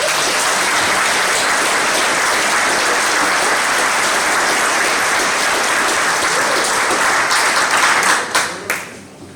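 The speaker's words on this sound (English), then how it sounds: "Please join us in a round of applause" Audience applause at a US Army lieutenant general's retirement ceremony at the Citadel, a sustained loud wash of many hands clapping that holds steady and then tapers off at the end.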